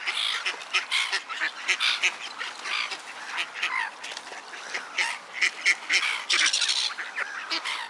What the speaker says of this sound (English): Oh, a duck party. Look how many ducks there are.